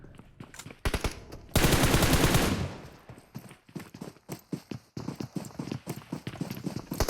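Gunfire in the game PUBG Mobile during a competitive match, heard as rapid bursts of close automatic shots and a loud blast that fades, followed by quick rattling volleys.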